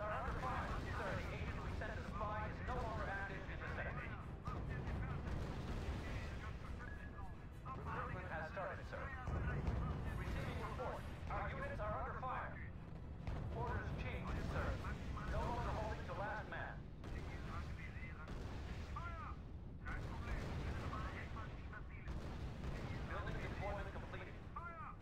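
Battle noise from the strategy video game R.U.S.E., with continuous rumbling artillery and scattered gunfire booms running underneath players talking over voice chat for the whole stretch.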